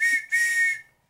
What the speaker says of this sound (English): And things like a police whistle.